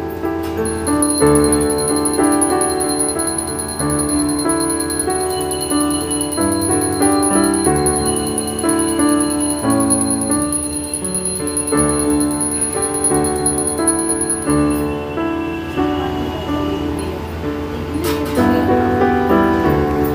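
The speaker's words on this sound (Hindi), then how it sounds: "हाँ तो घंटी बजा सकते हो आप।" Continuous loud ringing of a prayer bell during Harchhath puja, its metallic tones overlapping and sustaining throughout without pause.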